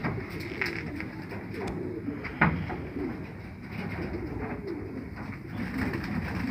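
Soft pigeon coos repeat over a steady outdoor background hum, with a brief louder knock partway through.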